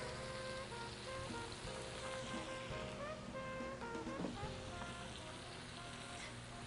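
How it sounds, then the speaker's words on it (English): Spaghetti squash with lemon juice sizzles steadily in a hot pan, a soft continuous frying hiss with faint crackles. "And we're going to saute that."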